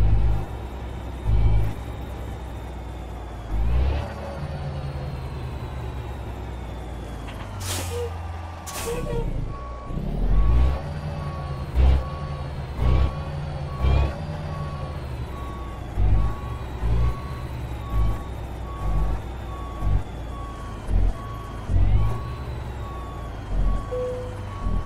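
Big rig truck backing a trailer into a loading dock in American Truck Simulator, with repeated sharp air brake hisses, a steady engine rumble, and a long run of reversing beeps.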